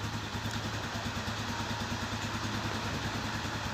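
A Rusi TC 175 motorcycle engine idles steadily nearby, a continuous low rumble with a fast, even putter and no talking.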